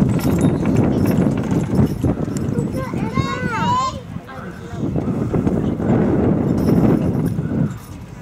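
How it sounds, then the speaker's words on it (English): Working horses trotting at a steam and country fair in England, their hooves making a steady, fairly close clip-clop that runs throughout under ambient crowd noise and wind, with a brief high whinny partway through. "lovely to see these horses working at the trot"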